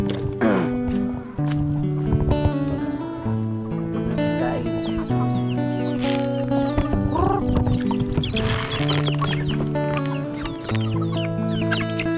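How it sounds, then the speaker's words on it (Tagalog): Chickens cluck and squawk continuously, several birds close by, with a rooster-like call and busy farmyard noise throughout. "pakita ko sa inyo yung mga alaga nating manok"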